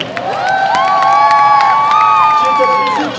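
A concert crowd cheers and whoops loudly and continuously, with shouting voices rising and falling together over a few seconds.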